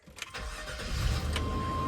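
A 1998 GMC Suburban engine starts: a short cranking burst, then it catches and settles into a steady idle. It sounds close and moderately loud, with no voices.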